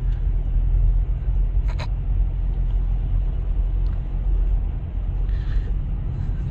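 A car driving through the Atal tunnel at roughly 50 to 60 km/h, heard from inside as a loud, steady low rumble of road and engine noise that never lets up.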